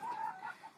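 A gold spangled Appenzeller Spitzhauben rooster gives a short, nasal clucking call, close and fairly quiet, lasting under a second.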